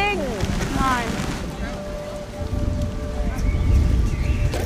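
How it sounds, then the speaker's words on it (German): Steady rain patters and hisses close by on a school garden in Hamburg, with a low rumble beneath and faint voices in the background. "Es regnet!"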